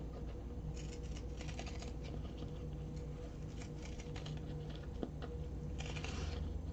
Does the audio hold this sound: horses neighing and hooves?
no